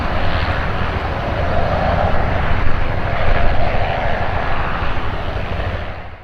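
Loud, continuous roar of a fixed-wing aircraft engine during a poorly flown aerobatic flight, steady and close for several seconds, fading slightly at the end.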